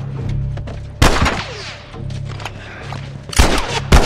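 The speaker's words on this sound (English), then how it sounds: "Dang, taking shots." Enemy gunfire in The Last of Us Part 2, sharp loud shots cracking out in separate bursts over a low steady background hum, the strongest blasts near the start and end.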